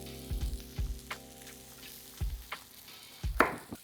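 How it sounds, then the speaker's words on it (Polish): Chorizo frying in a pan, a soft steady sizzle broken by several low knocks and scrapes of a utensil, close and fairly quiet, with no voices. "W tym czasie, kiedy smaży nam się chorizo"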